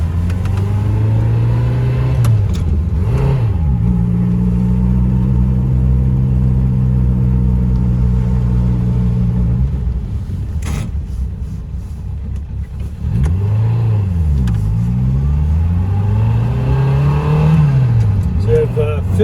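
A 1964 Honda S600 roadster's small high-revving engine, loud and close from inside the car, climbing repeatedly to a high wail between gear changes with a dip and settle midway, while people talk over it.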